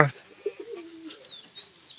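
A thin pet pigeon that has barely eaten for several days gives a brief, soft, low coo, faint and close, with light rustling around it.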